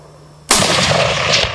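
A single loud rifle gunshot fired while hunting elk, a sudden sharp blast followed by a long rolling echo close to the listener, with no talk.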